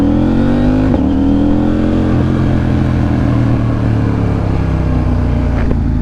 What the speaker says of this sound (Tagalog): Para mag-imitate niya yung sound ng V-twin, binago nila yung firing order.